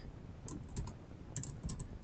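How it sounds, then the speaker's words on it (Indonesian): Typing on a computer keyboard: quick clusters of light key clicks in two short bursts, close and fairly quiet, with no talk. "Kita cukup ngetik saja judul bukunya"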